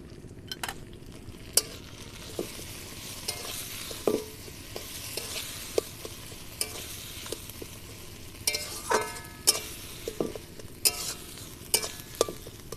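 Ground moringa leaf paste with salt frying on low heat in a pan, a soft steady sizzle broken by frequent sharp spatula clicks and scrapes against the pan, no speech.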